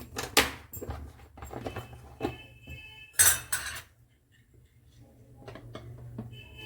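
A metal wok is set down on a gas stove in a home kitchen, giving a couple of sharp clanks and clinks near the start and again midway, with quieter handling rattles in between and no talk.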